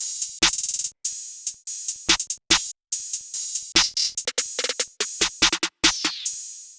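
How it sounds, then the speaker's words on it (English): A trap-beat snare roll programmed in FL Studio, dropping from higher to lower octave snares: crisp, bright hits fired in an uneven stuttering rhythm, some in fast clusters and others spaced apart, loud and alone. "And this is what it sounds like at the end, the snare roll."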